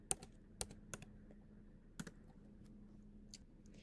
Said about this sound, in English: simply type in the student's name, press Enter to assign that sheet to the student